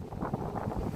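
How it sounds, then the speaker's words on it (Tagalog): Strong wind gusting through sparse-leaved jungle trees, a steady low roar buffeting the microphone for a brief moment with no talk. "Sobrang lakas ng hangin."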